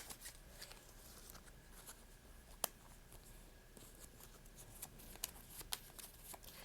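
Tarot cards being drawn from a major arcana deck, faint close shuffling and rustling with several small clicks and snaps against quiet background.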